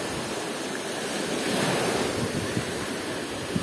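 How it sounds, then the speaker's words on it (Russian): Black Sea waves breaking on the shore at Veselovka in Krasnodar Krai, a continuous loud surf wash with rolling surges and wind rushing across the microphone. "шум волн, он ласкает ухо"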